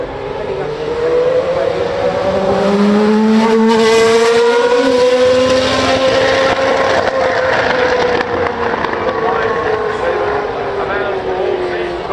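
A Ferrari Daytona SP3 in World Endurance Championship livery drives the hill at the Goodwood Festival of Speed, its engine note rising and falling loudly and steadily for the whole stretch, with a voice talking over it.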